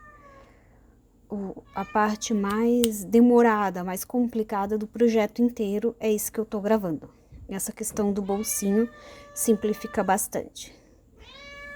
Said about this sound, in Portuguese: E esse é meu gato.